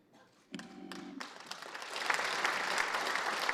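Lawmakers applaud during a presidential policy address in a parliament chamber, the clapping swelling from a faint start into sustained, dense applause that fills the hall after a brief voice.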